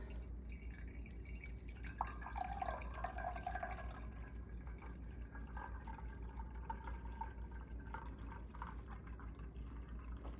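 Milk being poured from a container into a pot on the stove for homemade Assyrian-style yogurt, a steady close liquid splash and trickle with no talking.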